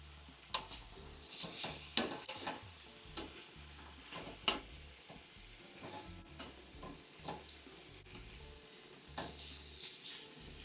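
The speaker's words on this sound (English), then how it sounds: "heat a little bit of oil in a pan and cook the thighs on medium high for 7 to 8 minutes on each side" Chicken thighs frying in a little oil in a pan over medium-high heat, a steady sizzle broken by sharp clinks and scrapes as the pieces are stirred and turned.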